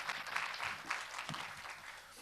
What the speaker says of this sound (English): go ahead and clap for that.